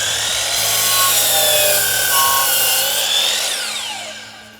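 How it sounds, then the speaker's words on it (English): A chop saw slices through a panel, its motor whining up into a loud, steady cut that runs for several seconds before spinning down, with no voices over it. "let's go to the chop saw and get this cut."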